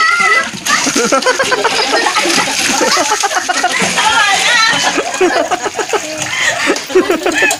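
Water is poured over someone, splashing and splattering in a loud, continuous burst, while several people shout, laugh and talk excitedly over it.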